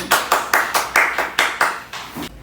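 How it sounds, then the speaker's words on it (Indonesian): A small group claps together in a steady rhythm, about eight sharp, evenly spaced clap bursts close by, with no talking over them. "berikan tepuk tangan kepada Uray Giovanni"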